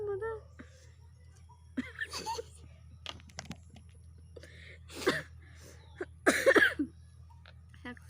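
A person coughs a few times in short bursts, with throat-clearing sounds and brief vocal noises spread over a low steady hum; the bursts are fairly close and moderately loud.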